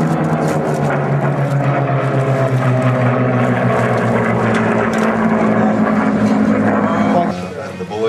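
A Supermarine Spitfire's piston engine runs loud and close with a steady deep drone, easing down near the end, while people talk underneath.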